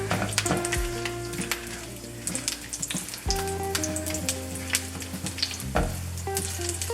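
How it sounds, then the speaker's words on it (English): Food fries in a pan with a constant bright crackling sizzle, plus occasional scraping and clinking of stirring, close and moderately loud with no voices. "Fry them for a little while to get that flavor out of there."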